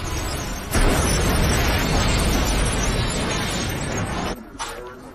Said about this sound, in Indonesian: Akibat ledakan yang terjadi, listrik di rumah sakit ini pun mati total